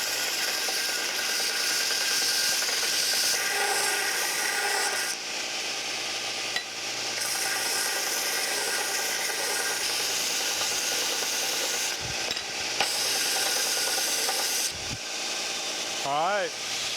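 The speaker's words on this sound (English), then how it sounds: "I'm going to clean these welds up on the grinder." An angle grinder cleans up welds on a steel bracket for a gantry crane top beam, a loud continuous abrasive whine with brief pauses and changes in load, close up and without speech.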